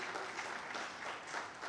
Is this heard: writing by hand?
no